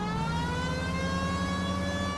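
A fire engine siren in the video game L.A. Noire holds a steady, loud, harmonic wail that drifts slightly in pitch over a low engine rumble, with no talking.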